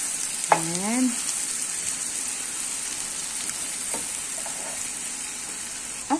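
Onion and garlic fry in a pan while being stirred, giving a steady, close sizzle with occasional stirring scrapes and a brief tonal chirp near the start.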